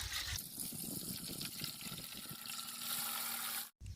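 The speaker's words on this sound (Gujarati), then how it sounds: "હવે આપણે એમાં પાણી નાખી દઈશું" Water pours steadily into a cooking pot holding a stand for steaming eggplant, a continuous close gushing trickle that cuts off abruptly at the end.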